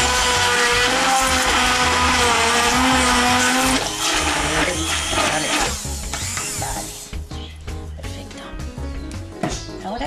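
An electric mixer beating batter seasoned with yeast and salt, a loud continuous whirring drone that later drops in pitch and turns rougher and more uneven as it runs on.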